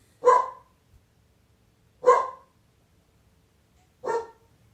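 Luna the dog barks three times, single sharp barks spaced about two seconds apart, fairly close in a quiet room with no talking.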